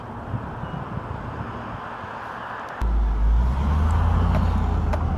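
Car driving around rural property, a steady interior road rumble that swells louder partway through as the engine pulls harder, with low wind noise and no talking.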